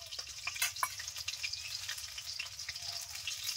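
Batter-dipped cabbage fritters fry in hot oil while being stirred, a close, continuous sizzle broken by quick scraping and bubbling bursts, with no voices.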